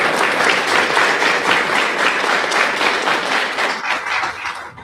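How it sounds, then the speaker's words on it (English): Loud, sustained applause from a large crowd, steady throughout and tapering slightly at the very end. "give the biggest round of applause for your new Sanger Preparatory principal, Principal Benedetto."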